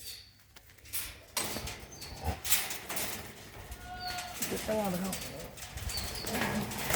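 Pigeons coo faintly in a village yard in Moga district, Punjab, a few soft calls under ongoing talk and background bustle.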